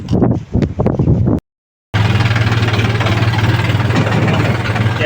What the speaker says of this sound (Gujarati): ટ્રોલીને રિવર્સ લઈ રહ્યા છીએ.